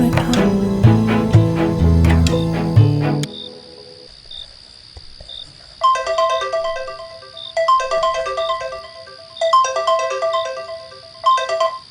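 A mobile phone ringtone plays loudly after a brief burst of music, repeating its chirpy electronic melody in regular bursts separated by short pauses, with no voices over it.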